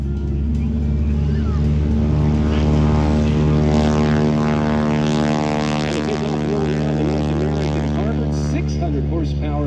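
A 600 horsepower radial-engine airplane flying aerobatics at an air show, its propeller drone loud and sustained, with a deep throbbing pitch that swells and shifts as it maneuvers close by.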